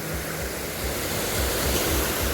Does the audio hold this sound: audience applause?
no